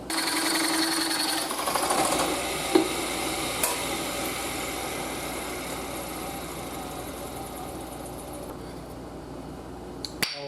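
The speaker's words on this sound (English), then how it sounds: "Fly cutters are miserable to use, but they sure do cut holes that you can't cut easily any other way." A fly cutter cuts a 3.5 inch hole with a steady, close mechanical whirring and humming that runs unbroken, with a few faint knocks and clicks along the way.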